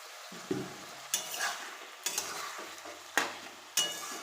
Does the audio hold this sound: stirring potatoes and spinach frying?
yes